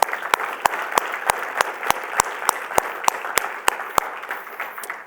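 Audience applause in a large leadership forum hall: scattered, rhythmic clapping with sharp individual claps standing out, moderately loud and steady for about five seconds before tapering, no talk over it.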